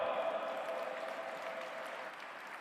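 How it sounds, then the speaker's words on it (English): An audience applauds to welcome Dr. Ganoune Diop at an interreligious G20 summit gathering, a steady, fairly distant wash of clapping that slowly fades, with no one speaking. "Please put your hands together and welcome with a round of applause"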